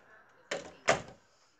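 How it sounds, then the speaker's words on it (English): A door in a bedroom gives two quick, close thuds less than half a second apart, the second louder, in an otherwise quiet room. "See, that's the door."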